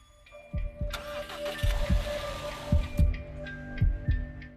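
A 300-horsepower rally car engine cranks and catches, then throbs with repeated deep revving pulses, loud and close, with a rough idling rumble between bursts.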